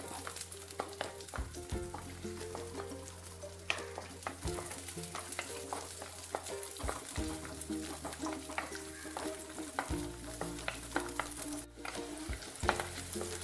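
Chopped ginger, green chilies and garlic sautéing in a pan for a Kerala cashew nut curry, giving a continuous soft sizzle broken by scraping and clinking stirs, heard close with a low background hum and no voices.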